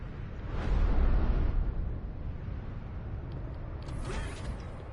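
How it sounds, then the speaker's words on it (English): Doors shut in the Broken Age video game, a heavy mechanical rumble and creaking slide followed later by a sharper metallic clank, with no voices over it. "Okay, both those doors are shut."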